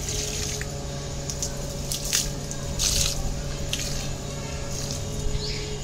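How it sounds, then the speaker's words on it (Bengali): Water poured from a bucket onto a potted hibiscus plant, a soft continuous splashing and dripping into soil, fairly close, with a steady background hum. "এটা জবা গাছ, দেখুন এই যে গাছটা একটু জল দিই।"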